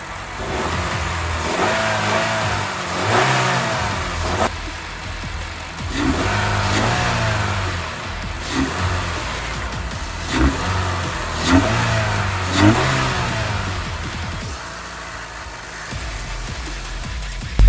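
A Honda Fit car with a modified engine starts up and revs repeatedly, loud and close, with several rising bursts of throttle between steadier idling stretches and no talking.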